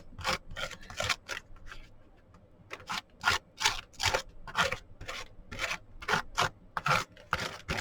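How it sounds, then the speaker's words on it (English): A dissolved mixture being scraped onto a surface, a quiet series of short rasping strokes that come in an uneven rhythm and grow denser toward the end. "Okay, so we're just going to scrape some on."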